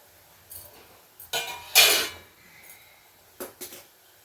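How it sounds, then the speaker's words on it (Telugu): A lid clatters onto a cooking pot in a home kitchen, with a few light metallic clinks and one louder clanking set-down, then brief knocks of cookware. "మూత పెట్టేస్తా."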